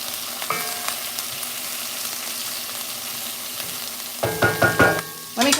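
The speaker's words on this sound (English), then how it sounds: "We're going to sweat these onions down before we put our ground beef in" Onions sweating in a pan for tacos, a soft continuous sizzle that gives way to louder bursts of stirring and scraping near the end.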